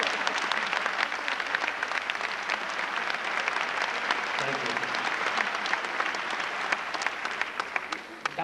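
Dense, steady applause from a large audience at a Tamil comedy show runs continuously and loudly from start to finish, with a faint voice briefly underneath.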